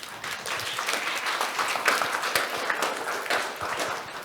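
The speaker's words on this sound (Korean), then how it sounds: "큰 박수로 맞아주시기 바랍니다" A conference audience applauds steadily to welcome a speaker, a dense wash of many hands clapping together at moderate volume for several seconds.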